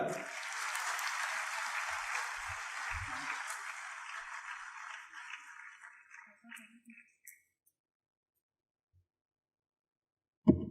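A crowd applauds at a university convocation as a BBA gold medal winner is called to the stage, the clapping steady at first, then fading out and leaving near silence with a few faint knocks.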